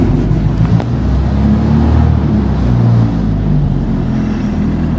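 A 1932 Ford Model B Roadster engine running after starting, a loud, steady low rumble close to the microphone with slight variation and some wind buffeting, no voices.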